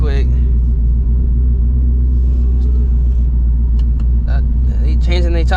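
Straight-piped Ford Mustang GT S650 idling with a deep, steady low exhaust rumble heard from inside while driving, with a person talking over it near the end.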